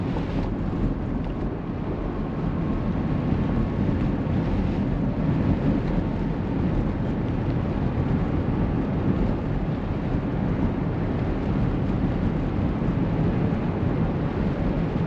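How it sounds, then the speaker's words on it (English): Strong winter storm wind in Michigan roars without a break, a dense, steady rush of buffeting gusts with heavy rumble hitting the microphone throughout, and no voices. "This wind is insane."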